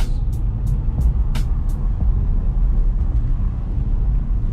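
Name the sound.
McLaren sports car driving in Sport Plus mode, louder exhaust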